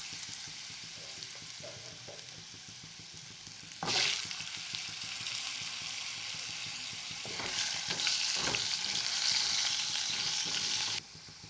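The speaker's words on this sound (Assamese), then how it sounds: "ওলকবিখিনি ফ্ৰাই কৰি ল'ম।" Kohlrabi fries in leftover cooking oil, a steady close sizzle broken by scraping stirs, with louder hissing surges partway through before the sound drops away abruptly near the end.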